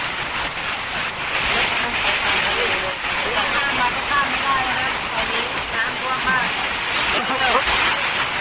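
Heavy downpour over a Bangkok street in the Huai Khwang district, with floodwater rising on the road: a dense, steady roar of rain throughout, with faint voices murmuring beneath it.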